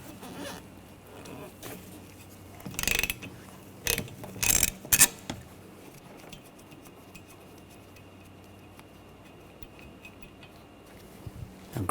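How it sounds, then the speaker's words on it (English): A hand ratchet with a 15mm socket loosens the wiper arm nut on a 2013-2019 Ford Escape, a few short bursts of close metallic clicking over a quiet workshop background. "Using a 15mm socket, take this nut off."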